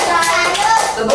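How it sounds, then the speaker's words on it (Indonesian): Schoolchildren in a classroom clap a rhythmic 'tepuk salut' chant for a group, quick sharp claps close by, mixed with children's voices. "kita berikan tepuk salut untuk kelompok"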